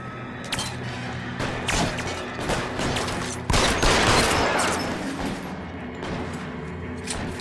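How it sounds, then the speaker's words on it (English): Repeated gunfire rings out in a shootout in the video game L.A. Noire, with dense bursts of shots and a heavier volley midway, loud and sustained over a busy background with no clear speech. "Okay, shootout."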